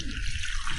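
Spring water pouring into a hot pot, a brief steady splashing gush close by with no talk.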